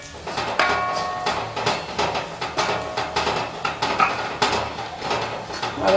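Kashmiri chili powder is stirred and sautéed in a pan for a Kerala-style spicy tapioca dry fry. A spoon clinks and scrapes against the pan in a steady rhythm over a faint sizzle, close up.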